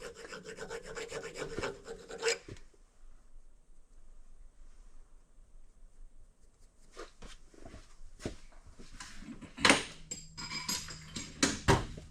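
Zinc plating being scraped and filed off metal threads on a large-frame Oliver 55 Series tractor's priority valve, heard as close, uneven rasping and rubbing strokes in two bursts with a quiet gap between them and a few sharp metallic clinks.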